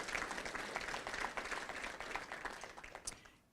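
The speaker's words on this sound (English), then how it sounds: "We can clap for it." An audience claps at a Rotary Club career technical awards and scholarships ceremony, a quiet, distant patter of many hands that fades away at the end.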